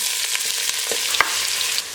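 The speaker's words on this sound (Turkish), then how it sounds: "Şimdi soğanımızı kavurdum. Böyle hafif pembeleşti." Steady crackling sizzle of onions frying in butter, close and continuous, with a few sharper pops and spatters scattered through.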